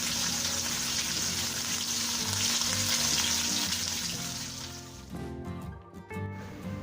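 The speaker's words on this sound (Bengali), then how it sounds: "তো আমি ওই কড়াইটার মধ্যেই মাছগুলো ভেজে নিচ্ছি।" Tilapia fish fry in hot oil in a wok, giving a loud, dense sizzle that holds steady for about five seconds, then thins out into softer crackles.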